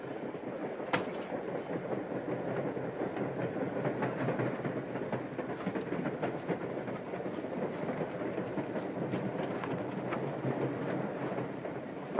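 A passenger train from around 1940 runs along the rails with a continuous rumble and rhythmic wheel clatter. A sharp click stands out near the start, and the steady, moderately loud noise continues with no talking.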